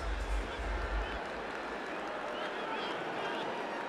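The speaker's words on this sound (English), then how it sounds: "Great crowd here inside the JMA Wireless Dome" Football stadium crowd at the JMA Wireless Dome, Syracuse, clapping and murmuring at kickoff against Georgia Tech, a steady, diffuse wash of applause at moderate distance with a few low thumps early.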